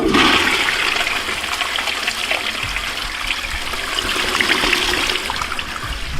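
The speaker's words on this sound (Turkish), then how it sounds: "Evet gördüğünüz gibi şimdi sifona bastım" A toilet flushes loudly and up close, a steady rushing gush of water with trickling running through the whole stretch, no voices over it.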